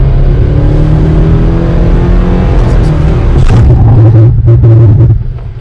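A 2022 Subaru XV launches hard with launch control, its engine droning loud and close with rising tones as it accelerates, then the sound thins and drops away at the end.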